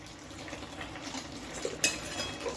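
A lid set down over a pot of broccoli curry gives one short, light metallic clink, close and fairly soft over faint kitchen background noise.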